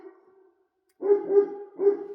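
A dog barks close by: a short low bark trails off, then after a pause come two or three loud, deep barks in quick succession, with no other sound around them.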